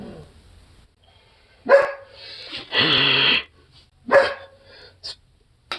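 A dog barks in loud, close bursts: a couple of sharp yips, a longer rough bark, then another bark and a short final yip, separated by quiet gaps.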